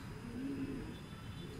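A racing pigeon coos softly after arriving home from a training flight, a brief low murmuring call heard outdoors against faint background noise.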